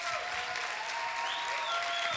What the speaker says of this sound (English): Can you give these guys a round of applause?